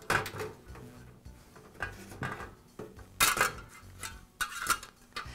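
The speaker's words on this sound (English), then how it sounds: "Make sure I snap the socket wires back into the wire clip" Small plastic clicks and metallic rattles as socket wires are snapped into a wire clip on a NuTone vent-fan-heater during a lamp socket repair, several close, sharp handling sounds spaced irregularly.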